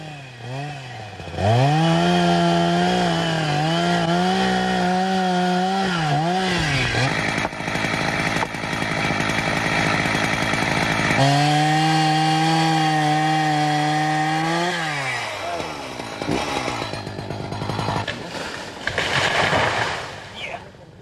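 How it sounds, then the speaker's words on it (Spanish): A chainsaw cuts into a large old tree, its engine droning loudly and rising and falling in pitch as it bites the trunk in two long cuts, with wood cracking between them. "Son muchos años, muchos anillos en el tronco, los que se vienen abajo con los embates de la sierra."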